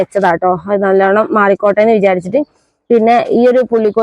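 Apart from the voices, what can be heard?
No everyday noise stands out behind the speech.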